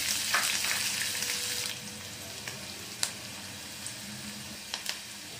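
Finely chopped onion fries in a pan for gravy, a dense sizzle that eases after a couple of seconds, with occasional crisp pops and stirring clicks over the lower hiss.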